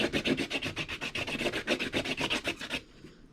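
An epoxy pen's flat side rubbed back and forth on a table, a steady run of about twenty quick scraping strokes at an even rhythm, close and clear with no talk, ending abruptly in near silence.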